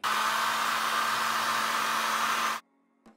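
Hair dryer blows a loud, steady whoosh with a constant hum, close by, while heating the adhesive of a carbon fiber phone skin, then cuts off abruptly.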